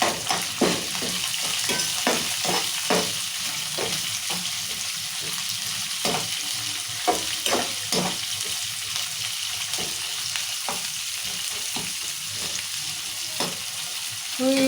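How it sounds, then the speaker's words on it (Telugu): Sliced onion sizzles and fries steadily in hot oil in a pan for wheat rava upma, with repeated stirring scrapes punctuating the continuous loud crackle. "ఇప్పుడు ఉల్లిగడ్డ వేసుకుందాం"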